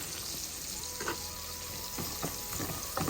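Shrimp and other ingredients for a mashed bhorta frying together in a pan give a soft, steady sizzle with a few brief scraping stirs near the end, close but quiet and without speech.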